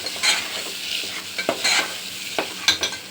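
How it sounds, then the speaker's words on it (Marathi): Harbhara bhaji frying in a pan as Kolhapuri red chili powder is stirred in, a close, continuous sizzle broken by several scraping strokes of the spoon. "चांगलं मिक्स करून घ्यायचं। गॅसची फ्लेम थोडीशी कमी करायची।"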